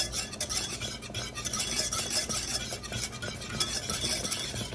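Constant stirring of a thickening apple dessert mixture in a pot, a spoon scraping and knocking against the metal in a steady, busy rhythm with light soft bubbling, no talking.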